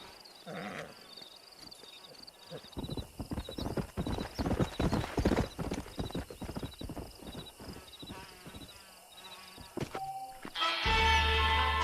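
Horse hooves clip-clop in a rhythmic run of steps in the Red Dead Redemption video game, with a whinny near the start and a loud burst of game sound at the very end.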